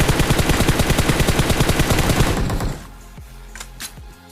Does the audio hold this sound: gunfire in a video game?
yes